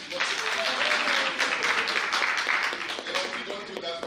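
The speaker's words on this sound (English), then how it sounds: "I thought you would clap hands." An audience at a stakeholder outreach launch claps hands in steady, sustained applause, fairly close and continuous for the whole few seconds, with some voices mixed in.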